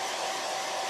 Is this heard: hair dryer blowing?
yes